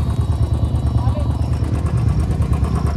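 A motorcycle engine revs and chugs steadily close by on a muddy, rain-soaked off-road hill track, a low rough throb that stays loud throughout.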